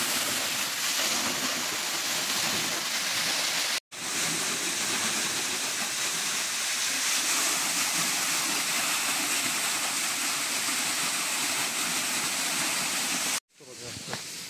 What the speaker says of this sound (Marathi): बोरिंगचं पाणी सोडलं जातं इकडे विहिरीला.